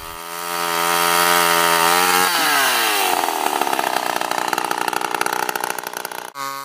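A chainsaw cuts a spotted gum fence post down to height, the engine revving steadily at close range before biting into the wood with a rough, fluttering rasp, then stopping abruptly near the end.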